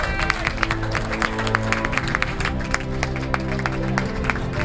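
Applause from the audience at the Sels d'Or 2019 awards ceremony, with steady crowd clapping running throughout over a musical backdrop, moderately loud and fairly close.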